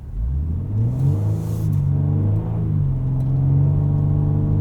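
A Ford Ranger Raptor on BFGoodrich KO3 tires pulls away from a standstill on a winter road in two-wheel drive, its engine rumbling loud and close as revs climb steadily through a gear, with no talking.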